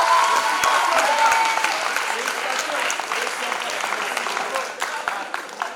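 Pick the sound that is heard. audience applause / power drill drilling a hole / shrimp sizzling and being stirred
audience applause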